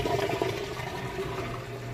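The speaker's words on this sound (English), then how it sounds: "You hear draining that water out nice and fast." A GE front-load high-efficiency washer drains water during its rinse cycle, giving a steady, moderately loud rush of flowing water with a low pump hum underneath, continuous and without speech.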